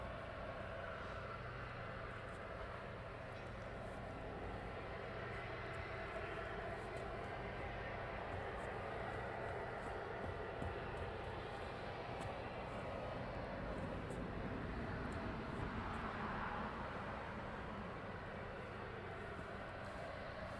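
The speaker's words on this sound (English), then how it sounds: "now we're going to pan around to these aircraft on approach" Aircraft on approach at night at East Midlands Airport, heard as a faint, distant, steady broadband engine rumble that swells slightly toward the end.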